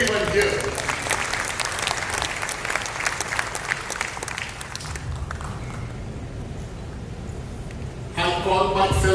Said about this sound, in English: let's give a big round of applause to everyone here